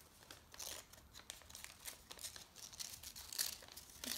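Sheet of paper being folded into an origami crane, close crinkling and crisp rustling strokes repeating throughout, some louder creases among softer handling, in a quiet room.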